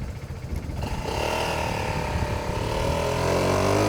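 An Italjet Dragster 200 scooter with a Malossi CVT upgrade and no exhaust pipe, running loud and close as the engine revs up into a rising, buzzing whine and holds high under acceleration.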